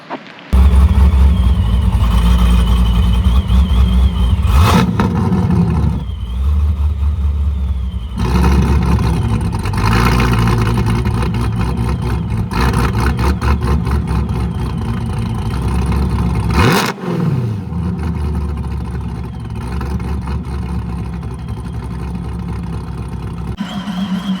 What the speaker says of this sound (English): I'm gonna crank it up for you real quick. We're gonna let you hear it with the baffles closed and with them open.